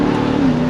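A Ram TRX pickup truck accelerates hard in first gear, its engine note rising in a loud, close, steady drone over a brief moment.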